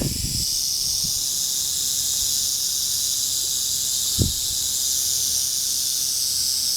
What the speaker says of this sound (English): That's a pretty loud rattle.